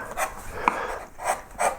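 Flat gouge levelling the background of a Celtic knot wood carving, giving a run of dry scraping and rubbing strokes with a few brighter surges and one sharp tick, steady and close with no talk.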